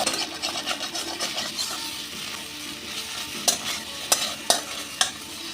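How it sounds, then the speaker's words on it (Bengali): Rohu fish head and taro greens fry in a pan with garam masala, giving a steady close sizzle with stirring and scraping, plus a few sharp clicks of a spatula toward the end. "এবার গরম মশলাটা দিয়েও আরেকটু ভেজে নেব"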